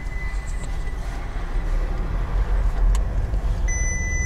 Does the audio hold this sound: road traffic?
yes